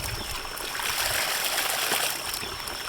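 Water gushes steadily from a discharge valve under strong pressure, a continuous broad rushing spray that stays loud and close throughout without any talk.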